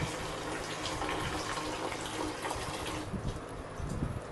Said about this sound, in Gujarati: એક ગ્લાસમાં આપણે પાણી લઈએ છીએ